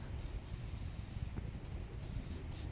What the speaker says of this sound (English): I'm going to actually spray a bunch of the screws here